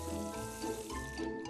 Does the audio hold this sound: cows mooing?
no